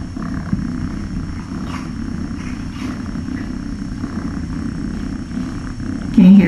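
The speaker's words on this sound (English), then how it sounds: "She's purring very enthusiastically right now." A cat purrs continuously and close up, a low steady rumble, with a brief louder sound at the end.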